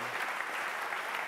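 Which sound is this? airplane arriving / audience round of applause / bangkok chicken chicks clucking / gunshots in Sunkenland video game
audience round of applause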